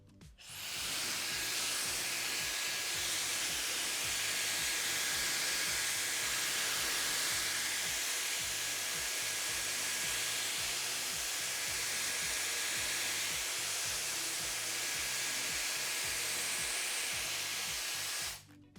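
An M Ionic hair dryer blow drying hair, a loud steady airy rush with a thin high whine running unbroken for about eighteen seconds, starting and stopping abruptly, with no talking.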